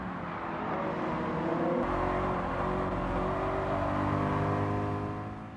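A race car engine in the Gran Turismo 7 video game drones steadily through a final lap in the lead, its pitch shifting with a brief gear change, loud and continuous throughout.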